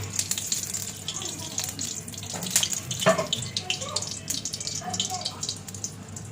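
Dhenki saak greens being washed with water in a kitchen: splashing, trickling and rinsing noises with scattered drips and handling clatter, continuous and close throughout, with occasional background sounds.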